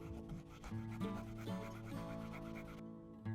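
Leather bag edges being burnished by hand, a rapid rhythmic rubbing with repeated back-and-forth strokes, close and fairly steady before stopping near the end.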